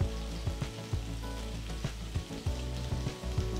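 Paneer pieces roast in hot ghee in a pan, a steady close sizzle and crackle with soft periodic stirring or shifting sounds and no voices.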